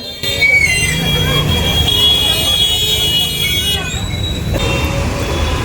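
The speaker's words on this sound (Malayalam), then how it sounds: "സിഗ്നൽ കത്തിക്കിടക്കുമ്പോൾ വരെ വെറുതെ ഹോണടിച്ച് വെറുപ്പിക്കുക എന്നുള്ളതാണ് കേട്ടോ ഇവിടെയുള്ള ആൾക്കാരുടെ ഒരു സ്വഭാവം" Car horns honk in busy night traffic in Siliguri, with sustained and overlapping blasts over a constant road rumble, and people talking.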